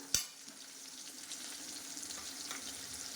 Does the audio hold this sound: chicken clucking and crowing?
no